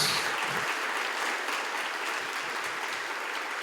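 A church congregation applauds together in a dense, steady burst of clapping that fills a hall, holding at an even level before easing slightly at the end.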